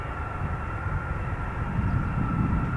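Jet engines of a KC-135 tanker aircraft roar steadily at an air force event, a loud continuous rumble with a steady whining hum on top and no talking.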